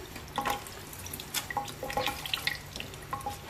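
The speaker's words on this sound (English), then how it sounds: "Rinse your rag out every so often." Acrylic paint being rinsed from a rag in water, with soft drips, splashes and running water from a tap in a sink, brief irregular wet bursts close to the microphone and no talking.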